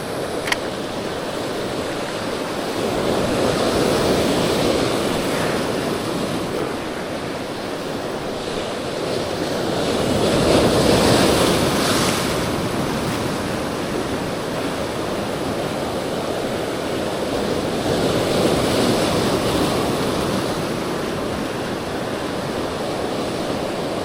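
Ocean surf at high tide rolls in on a fishing outing, a steady broad wash of breaking waves that swells louder in slow surges around every seven or eight seconds, with some wind across the microphone and no voices.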